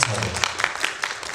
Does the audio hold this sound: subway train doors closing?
no